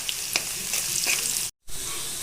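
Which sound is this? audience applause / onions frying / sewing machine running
onions frying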